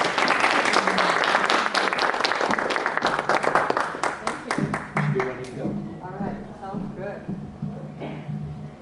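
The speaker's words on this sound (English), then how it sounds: "if you can join me with a round of applause to kick her off" Audience applause for a speaker at a humanist gathering, a loud burst of clapping from a room of people that thins out into scattered claps as voices begin talking.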